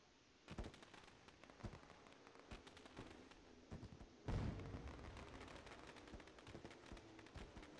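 Fireworks in a sim racing game before a midget car race at Knoxville, faint crackling pops and bursts scattered through, with a louder burst midway followed by a sustained rumble.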